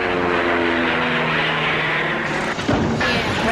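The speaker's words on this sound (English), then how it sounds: "As I wind up this propeller, the rubber band stores energy, and that energy can be released to make the airplane fly." Small rubber-band-powered model airplane propeller spinning with a steady buzzing whir, close and continuous, briefly disturbed near the end.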